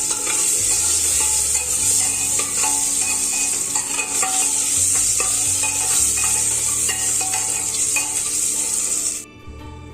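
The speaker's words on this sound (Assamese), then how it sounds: "কণী আৰু আলুখিনি অকণমান ৰঙা হোৱাকৈ ভাজি ল'লোঁ।" Eggs and potatoes frying in oil seasoned with salt and turmeric, a loud close continuous sizzle with frequent stirring scrapes, cutting off abruptly near the end, no voices.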